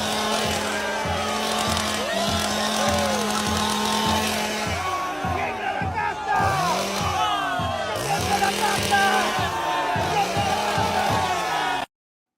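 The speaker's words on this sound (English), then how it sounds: "Milei saca motosierra durante caravana en Argentina." A chainsaw revs in repeated rising and falling bursts during a street motorcade in Argentina, over steady loud pulsing horn tones and dense crowd and traffic noise throughout.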